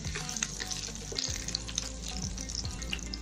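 Garlic and cloves fry in oil in a pan, a steady close sizzle with scattered small pops and crackles running throughout, no voices.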